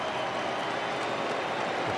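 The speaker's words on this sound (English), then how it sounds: "Anxious crowd." Anxious crowd murmurs and buzzes at a Braves at Brewers baseball game, a loud, continuous wash of stadium noise with scattered clapping and no clear voices standing out.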